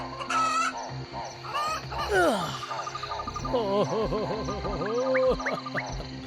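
A hen clucks in short bursts amid chirping crickets, with tonal music and other animal calls mixed in, in an animated Panchatantra cartoon.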